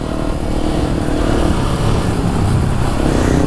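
A Kawasaki Ninja 300 with its silencer removed runs loud and close, its raw exhaust drone continuous and steady.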